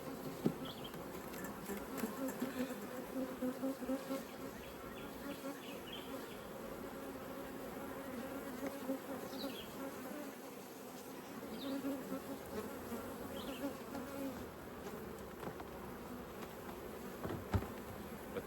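Honey bees buzz around open hive supers, a continuous soft drone of many insects nearby with individual bees flying past the microphone at moments.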